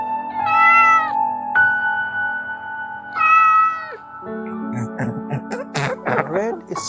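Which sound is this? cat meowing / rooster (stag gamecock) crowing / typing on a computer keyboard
cat meowing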